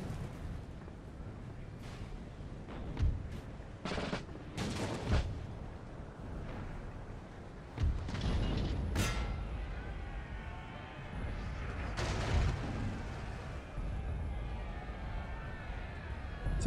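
Twelve-pounder cannons boom across a Napoleon: Total War battlefield, a few scattered distant blasts and rumbling impacts against steady battle ambience, with someone talking over it.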